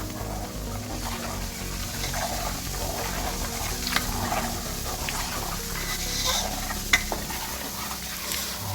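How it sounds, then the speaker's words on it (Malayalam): Butter boils down into ghee in a pan, giving a steady bubbling sizzle throughout with occasional scraping stir strokes and small pops. No one speaks. "ഇപ്പം ഈ തിളയ്ക്കുന്ന തിള അവസാനിക്കുമ്പോഴാണ് നമ്മുടെ നെയ്യ് റെഡിയാകുന്നത്"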